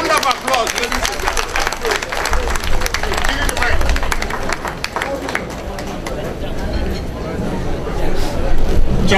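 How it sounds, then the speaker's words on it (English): A crowd applauding at a 25th anniversary celebration, with sustained clapping mixed with loud hubbub and voices throughout. "Round of applause."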